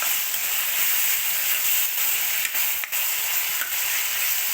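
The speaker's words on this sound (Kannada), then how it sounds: "ಇದು ಚೆನ್ನಾಗಿ ಫ್ರೈ ಆಗಬೇಕು." Salted tomatoes frying in a pan for a cabbage palya, giving a steady loud sizzle and hiss with a few brief stirring scrapes.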